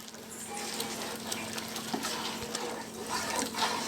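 Eight glasses of water boil in a wide, heavy pot, giving a faint, continuous bubbling simmer with light sputters and no talking.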